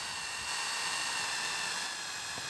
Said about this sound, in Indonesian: Jadi langsung kita bor lagi dengan menggunakan mata M3 atau